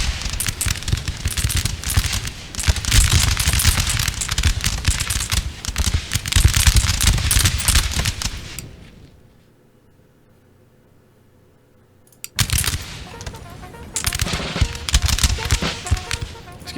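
Massed musket volleys from soldiers in the Napoleon Total War strategy game, a dense loud crackle of overlapping shots for about eight seconds, a near-silent pause, then another sharp burst of rolling gunfire.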